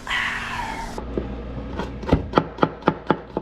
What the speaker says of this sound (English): I'm just cutting the garlic into slightly smaller pieces